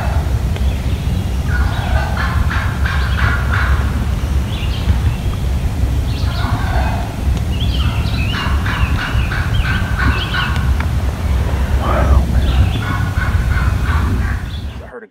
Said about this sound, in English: I heard gobbler yelps.